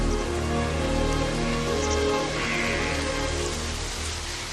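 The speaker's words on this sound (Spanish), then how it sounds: "y ahora aquí, en Málaga, al sur de España, está lloviendo." Steady rain falling and pattering on surfaces in Málaga, southern Spain, a dense continuous hiss with no voices.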